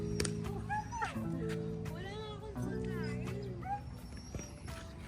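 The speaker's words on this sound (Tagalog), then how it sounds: "dami rin aso dito" Dogs on the Puerto Princesa baywalk give short yips and whimpering barks, close and fairly clear, while people talk steadily over them in an outdoor street setting.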